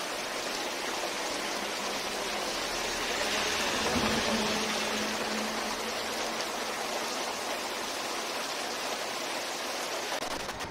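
Heavy monsoon rain pours steadily outdoors, a dense broadband hiss of water drenching the ground and a parked vehicle, constant and close, with a faint low hum in the middle.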